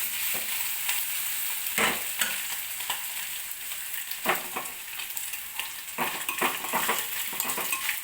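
Egg and dried fish curry sizzles and fries steadily in a pan, with repeated scraping stir strokes and light utensil clinks over the continuous hiss, close and moderately loud.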